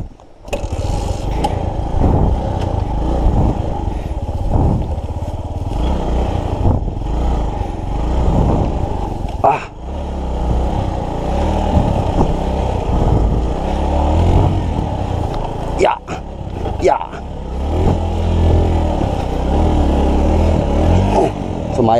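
A Suzuki GD 110 motorcycle on a forest trail runs with a steady, loud engine drone throughout, close by, with a few scraping bumps as it crawls over rough ground.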